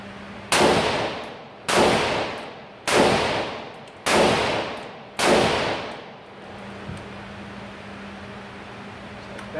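A rifle bolt on a LEO takedown system snaps closed with a magazine loaded, heard as five sharp metallic clangs at roughly one-second intervals, each ringing briefly before the next, with no talk over them.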